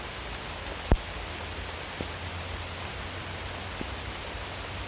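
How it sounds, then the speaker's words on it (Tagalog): Heavy rain falls outdoors as a dense, constant wash of broadband hiss, with a couple of faint knocks and one sharp tap breaking the steady downpour, and no voices. "sobrang lakas na ng ulan mga idol"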